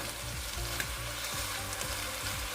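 Lotus root in its sauce braises down in a pan with a low, quiet bubbling sizzle and periodic rhythmic stirring scrapes, the liquid reducing until nearly dry.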